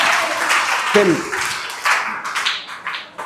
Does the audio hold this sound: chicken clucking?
no